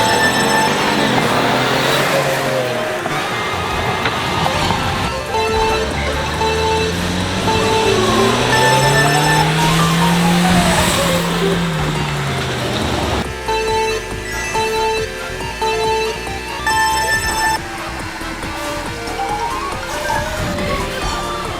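A huge Lincoln Navigator with a 450-horsepower Raptor engine races a tiny Scion with a 1.3-liter four-cylinder, engines rising in pitch through gears as they accelerate, loud and sustained with passing road noise.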